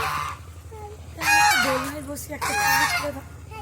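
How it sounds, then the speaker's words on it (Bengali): Geese honk in a town setting in Diamond Harbour: two loud, close bursts of harsh, repeated honks separated by a quieter stretch of low background noise. "রাজহাঁস দেখেছো বাবা রাজহাঁস দেখতে পাচ্ছ"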